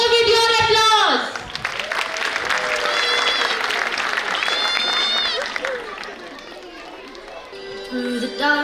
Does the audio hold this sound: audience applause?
yes